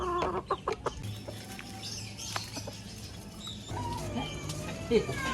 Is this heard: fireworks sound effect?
no